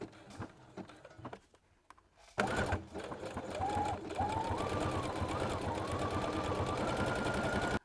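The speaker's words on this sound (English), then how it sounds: "set your sewing machine to zigzag stitch and then sew on the inside of the eye patch first with a top stitch zigzag" A sewing machine running a zigzag top stitch around a fabric eye patch on a toy snake, starting with faint clicks and then a loud, rapid, even mechanical whirr close by with a rising motor pitch.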